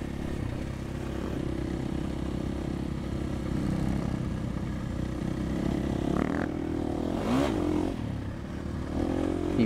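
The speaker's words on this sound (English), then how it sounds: "These bikes are nice and easy to accelerate on." Dirt motorcycles accelerate across desert dunes, their engines droning steadily with a couple of rising revs toward the end, loud and close with wind noise.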